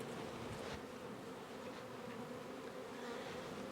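A bee buzzes steadily and close, its drone hovering continuously over a faint outdoor background.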